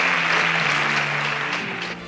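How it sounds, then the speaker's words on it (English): Audience applause for a contestant leaving a competition show, a steady wash of clapping that holds level and fades slightly at the end, with a low hum beneath. "A round of applause for Emmanuel."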